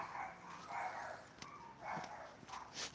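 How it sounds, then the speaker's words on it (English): Dogs bark in the background, faint, distant yaps repeating through the stretch under a low room hiss with scattered clicks. "Dogs in the background."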